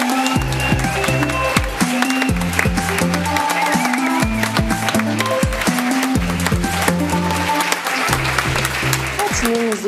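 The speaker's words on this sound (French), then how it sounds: "Je vous demande donc d'applaudir notre bénévole coup de cœur de la semaine" A church audience gives a volunteer a steady round of applause, with dense clapping that runs throughout alongside tonal music.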